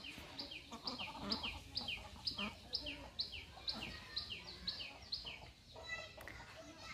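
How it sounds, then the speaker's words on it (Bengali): Spring birds in a Habiganj village call in a rapid, regular series of bright chirps, fairly close and steady, over a soft outdoor background. "বসন্তের পাখি ডাকছে"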